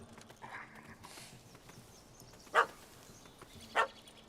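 A dog barks in The Witcher 3 video game, two sharp separate barks about a second apart over quiet ambient game sound.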